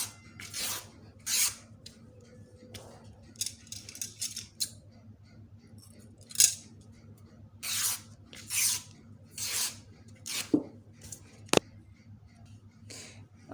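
Fabric strips torn by hand for dress ruffles: a series of short, sharp ripping bursts, some quick and some longer, separated by pauses over a low steady background hum, with no talking.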